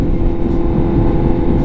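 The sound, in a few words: Honda CBR1000RR-R Fireblade SP motorcycle with Leo Vince slip-on exhaust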